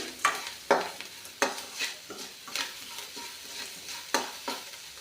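A jowar snack mixture with turmeric and salt is stirred in a pan, producing a series of close scraping strokes at an uneven rhythm over a faint sizzle.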